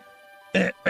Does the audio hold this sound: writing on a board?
no